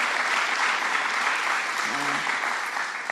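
An audience applauds state legislators at an event with the New York governor, steady dense clapping close and fairly loud, with a brief voice faintly over it.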